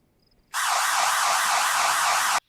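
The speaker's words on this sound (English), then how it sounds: "That's an awful alarm." A loud, harsh electronic alarm blares suddenly after a quiet moment, its warbling tone wavering rapidly and steadily for about two seconds before cutting off.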